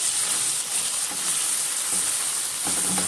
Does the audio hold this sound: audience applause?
no